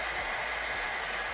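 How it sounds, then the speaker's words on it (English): A hair dryer blows steadily on a snowball, a continuous loud whooshing hiss of air with no pauses. "not melting instantly on her hair dryer that she just turned on"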